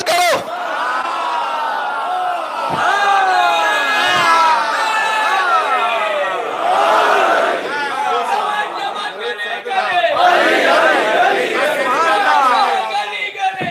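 A large crowd at a Shia majlis mourning gathering in Karbala loudly chants religious slogans in unison, with rhythmic collective shouting and rising, falling voices sustained for the whole span.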